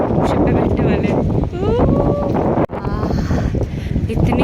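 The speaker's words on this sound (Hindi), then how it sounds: "इतनी तेज़ हवा चलती है ना यहाँ पे, लहरें कैसी जा रही है" Strong sea wind buffets the microphone aboard a ship crossing the ocean toward Vivekananda Rock off Kanyakumari, a constant loud roar with gusts, while someone talks over it.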